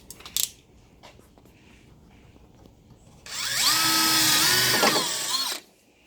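A power drill backing out a screw whirs steadily for a couple of seconds, its pitch sliding slightly as it runs, after a few faint clicks and handling sounds.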